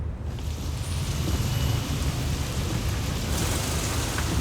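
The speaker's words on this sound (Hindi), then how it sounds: "अरे वाह, बारिश।" Steady heavy rain pours down with a dense, continuous hiss and a deep rumbling undertone like distant thunder.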